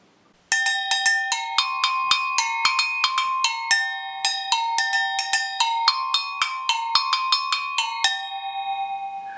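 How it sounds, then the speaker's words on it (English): Brazilian agogo bells struck in a quick, steady rhythm that alternates between two bright metallic pitches, each hit clear and close, ringing briefly until the last note decays alone. "The agogo bells from Brazil."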